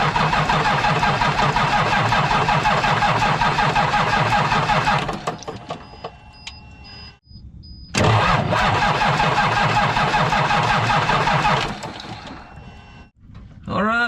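Diesel engine cranking and catching after air was bled from its fuel system, running loud and rough up close, dropping briefly, then roaring back to a steady run before cutting off near the end.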